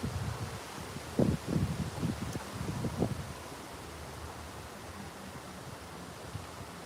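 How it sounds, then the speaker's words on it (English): Strong wind gusts outdoors near water at a fishing spot, with a low rumbling buffeting and rustling that swells in the first few seconds before settling into a steady, fainter whoosh. "Wind's really picking up, eh, guys? Big time."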